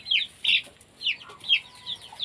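Chickens on a small farm in Cavite cluck in short, repeated bursts, close by and fairly soft, with no talking.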